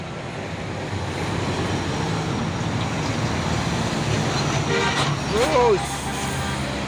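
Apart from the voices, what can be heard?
Hino Dutro box truck passing on road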